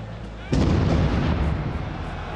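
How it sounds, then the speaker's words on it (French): A single sharp explosion bursts in after a brief quiet lead-in, then a dense rumbling decay lingers and slowly fades over the following two seconds. "21h16, une première explosion à l'entrée du Stade de France retentit."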